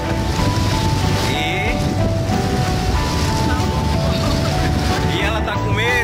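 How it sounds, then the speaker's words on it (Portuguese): Ocean waves wash in at a beach, a loud continuous surf roar mixed with heavy wind buffeting the microphone, while people talk over it. "Olha a onda, olha as ondas."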